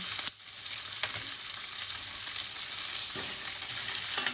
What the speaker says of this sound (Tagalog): Ihuli natin tong squid at ang ating hipon kasi mas madali po yan maluto.